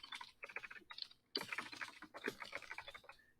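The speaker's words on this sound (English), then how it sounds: "So this we're going to type." Rapid keystrokes on a computer keyboard in a construction-company e-learning setup, coming in close, crisp bursts with short pauses between them, and no voices.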